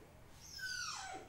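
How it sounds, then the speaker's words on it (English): A small dog outside gives a single rising-then-falling whine or yelp, faint and somewhat distant, over a low background hum. "Don't mind my little doggy outside, he's just bugging me."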